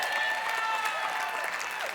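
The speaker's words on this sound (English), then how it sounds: "You can clap." Audience applause at a conference showcase talk, a dense, even patter of many hands clapping at moderate distance, filling the room without speech.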